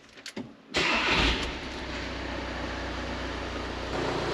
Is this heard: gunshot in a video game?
no